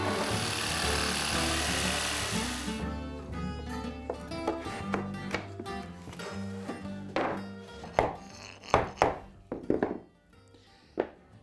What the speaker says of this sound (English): A jigsaw makes cutting out the notch quick and simple.